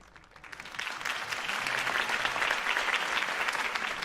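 A crowd breaks into applause after Harvey Dent's campaign speech in Batman: The Telltale Series, the clapping swelling quickly and holding as a dense, sustained roar of many hands.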